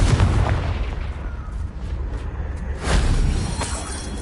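A Confringo spell blast in a video game: dense, loud booming bursts with explosive crackle, rising again toward the end over continuous rumble.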